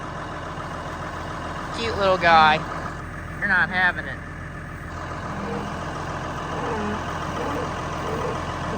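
A farm tractor engine idles steadily at low volume, a constant low rumble running beneath a man's nearby speech outdoors among farm animals.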